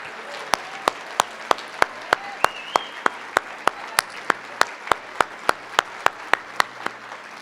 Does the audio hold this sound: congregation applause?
yes